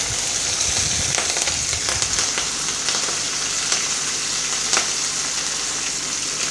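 Green chillies frying in hot oil for a dal tadka give a close, steady sizzle and crackle that runs the whole time, with small pops scattered through it and no voices.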